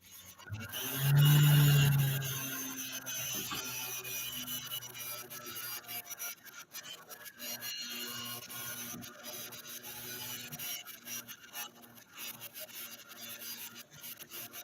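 A large metal file with a fine-cut tooth works a piece of jewelry at a craft bench, making a continuous close rasping of back-and-forth strokes, with a brief louder tonal sound near the start.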